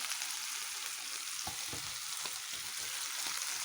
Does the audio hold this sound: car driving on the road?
no